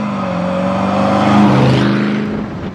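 Daimler Dart sports car with overdrive driving along, its engine humming loud and close with a steady low drone that swells slightly in the middle as it pulls, no talking.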